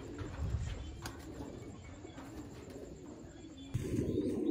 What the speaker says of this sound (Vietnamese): Còn đây là bồ câu gà Mỹ nha mọi người.